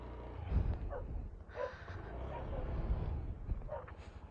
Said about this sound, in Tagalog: Aso namin yun, 4 na piraso.